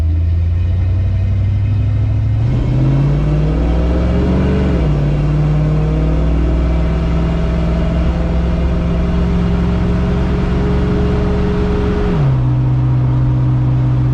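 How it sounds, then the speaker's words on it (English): A 1970 Dodge D100 pickup truck accelerating hard, its engine rumbling loudly and climbing in pitch, easing off, then revving up again and holding a steady drone before settling, close and continuous with no talk. "Did a little bit of a hard acceleration."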